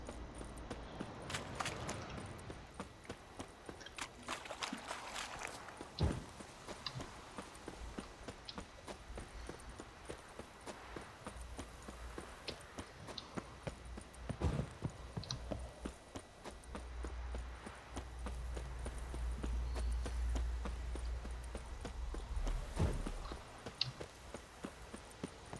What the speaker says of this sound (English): Aquí está mi caballito.